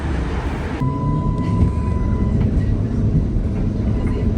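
A tram in Budapest rumbles along with a steady low roar, and a thin whine or brake squeal rings out briefly near the start.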